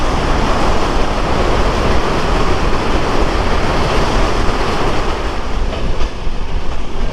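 Drutojan Express rolls near the Jamuna bridge on a moonlit night, a loud, continuous broadband rumble and rush of the moving train, close and steady, with no voices.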